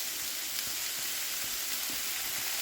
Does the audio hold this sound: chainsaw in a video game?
no